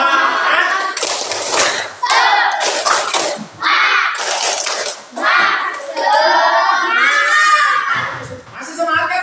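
Indonesian classroom children chant loudly and do a rhythmic spirit clap as an ice-breaker, with bursts of voices and hand claps close by and brief pauses between phrases.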